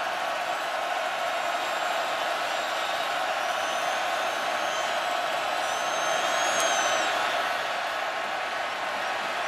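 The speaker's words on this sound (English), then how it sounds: "Crowd gets louder and louder." Stadium crowd at a North Carolina versus Virginia Tech college football game in 2021, a sustained wash of roaring noise with thin whistles cutting through, swelling slightly toward the end.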